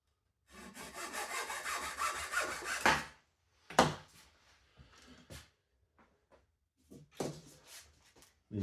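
Wood being sawn during a model aircraft fuselage build: a close, steady run of rasping strokes for about two and a half seconds, then a sharp knock and a few scattered scrapes and taps, with no talking.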